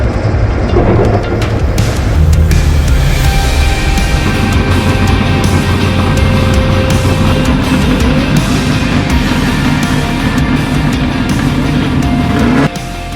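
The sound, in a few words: Chevrolet Corvette drifting on the track at Road Atlanta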